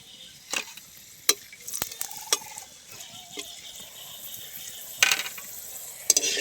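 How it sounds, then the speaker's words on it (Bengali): Dried red chillies fry in hot oil in a pan for Bengali jhuri aloo bhaja, a soft steady sizzle broken by sharp metallic clicks and scrapes of a spatula stirring at an uneven rhythm, close by. "এবার আমি শুকনো লঙ্কাটা ভেজে নেব।"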